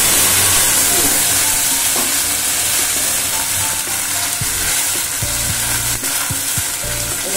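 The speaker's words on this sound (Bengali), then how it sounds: "মশলাটা একটু ভাজা ভাজা হোক" Spice paste masala frying in oil for a Bengali fish curry, a loud, close sizzle and hiss with scraping stirring strokes and occasional clinks through the whole stretch.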